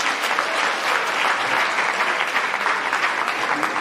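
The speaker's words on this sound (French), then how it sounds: "Je voudrais applaudir aussi Monseigneur Alexis Kouabi." Dense, steady applause from a conference audience fills the room, many hands clapping at once without a break and no voices rising above it.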